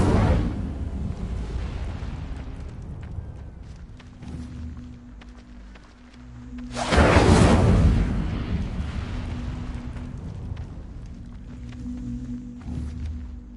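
An Incendio fire spell in a wizard video game, a sudden roaring whoosh of flame that swells loudly midway, rising out of a low, steady game-ambience rumble and then fading back.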